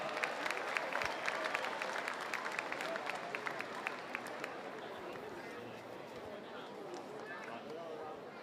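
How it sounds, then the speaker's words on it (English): Crowd applause at a World Championship campdraft round, a broad steady wash of clapping and cheering sustained throughout, with a public-address announcer's voice carrying over it. "put your hands together for Troy Palmer."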